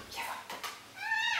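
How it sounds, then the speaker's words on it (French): Domestic cat meowing, a couple of short, close meows with a rising, drawn-out call at the end, heard alone in a quiet room. "C'est le chat de nos amis qu'on garde."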